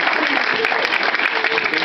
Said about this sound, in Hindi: तो अब तालियां मेरे लिए भी बजाइए जरा।